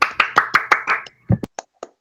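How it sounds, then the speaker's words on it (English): A single person claps their hands in an online seminar, six quick even claps close to the microphone followed by a few slower, scattered claps that trail off into silence. "I don't know if clapping the hand in the online seminar is good or not"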